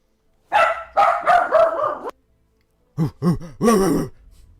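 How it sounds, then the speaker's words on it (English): A small dog barks and yips in two bursts, a quick run of sharp yaps, then a pause and a few more high, groaning barks close by, with no talk. "What dog is that? It's a very small dog."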